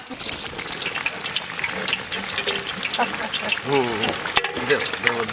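Mutton hitting hot mustard oil with cooked-down spices in a village kadai, a busy sizzle and stirring clatter under intermittent voices talking nearby.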